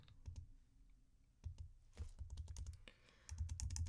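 Computer keyboard keys pressed in quick irregular bursts of crisp clicks, close and fairly quiet, with a denser flurry of keystrokes toward the end.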